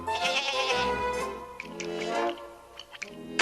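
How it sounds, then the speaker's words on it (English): Cartoon goat bleating inside a castle, a loud wavering bleat at the start followed by shorter, fainter bleats and clicks, with music in the background. "How many times have I told you, no goats in the castle?"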